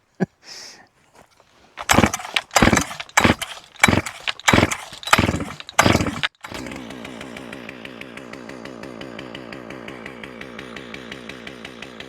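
A chainsaw with a compression release is started with a string of loud, sharp pulls and bursts, then settles into a steady, close engine run on choke to warm up.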